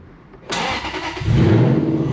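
An Aston Martin V8 Vantage with high-flow catalytic converters and a muffler delete fires up and revs, a sudden loud bark followed by a deep, rising growl, close by and dominant.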